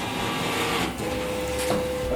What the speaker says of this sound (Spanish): Aquí podemos ver cómo está operando el ventilador.